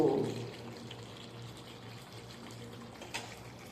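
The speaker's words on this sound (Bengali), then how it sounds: "এবার আমি জল দিয়ে দেব।" Water poured into a cooking pot of doi chicken makes a soft, steady liquid wash, faint and low, with a brief splash near the end.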